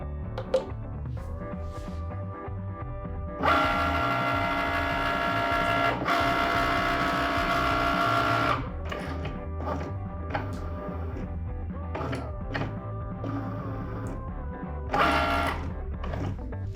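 A Cricut cutting machine runs a print-then-cut sticker job, giving off close, buzzing motor whirs in several bursts, a long one and a short later one, separated by quieter mechanical clicks and pauses.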